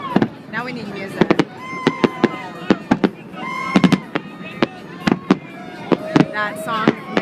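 Fireworks bursting over San Francisco Bay on New Year's Eve, heard from a boat: a rapid, uneven barrage of loud cracks and bangs mixed with whistles, with people talking close by underneath.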